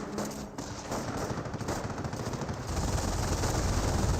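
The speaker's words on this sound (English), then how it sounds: "Rifleman squad receiving some fire from the MG42 now." MG42 machine gun in Company of Heroes laying down sustained fire on a rifleman squad, a dense rattling burst of rapid shots that swells louder toward the end, with no voices.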